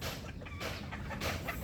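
Roosters cluck and call in a rainy-season chicken farm, several short bursts at a moderate distance over steady background noise, with no talking.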